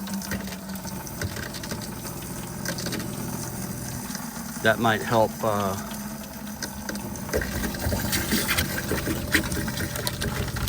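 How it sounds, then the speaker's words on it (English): Hot water tap in a camper running into a bucket, a steady rushing stream of water with a mechanical hum underneath and a brief burst of talking in the middle. "I'm gonna turn the hot water on."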